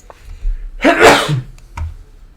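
A single loud, close sneeze with a sharp burst, followed by a quiet breath.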